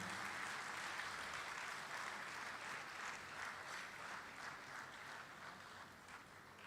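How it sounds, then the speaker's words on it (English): Steady applause from a large audience at a formal award night, continuous dense clapping at a fairly even level that eases off slightly toward the end. "Make the applause better,"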